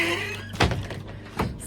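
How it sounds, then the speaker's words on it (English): A door creaks open with a squeak and then a couple of knocks and thumps close by, as someone heads inside an off-grid home on a cold day, with no talking. "Squeaky door."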